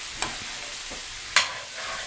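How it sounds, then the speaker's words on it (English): Italian olive oil hisses in a hot pan with a soft, steady sizzle, broken by a couple of brief louder bursts of spatter and stirring; no one speaks. "add a little bit of Italian olive oil. Just throw a dash in there. See the type of flavor that gives it. Get a little nice little sizzle"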